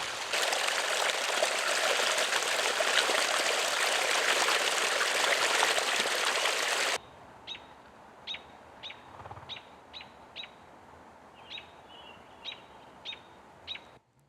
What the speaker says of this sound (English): it's soaking into the ground and then coming out of the ground right here as a natural spring